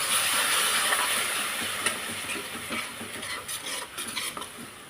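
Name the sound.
stirring green peas gravy with curd in a pan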